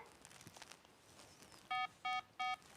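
Air raid alert app's approaching-targets warning: three short, loud electronic tone bursts repeated in an even rhythm over faint background noise.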